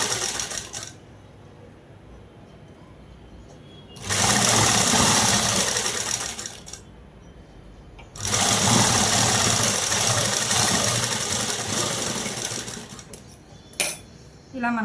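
A sewing machine stitches a long frock dress cut from a saree, running in two sustained bursts of about three and six seconds with quiet pauses between, close and fairly loud.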